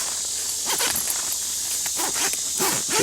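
Zippers on a camouflage square dome tent being pulled, giving several short rasping zips in quick succession, close and fairly loud.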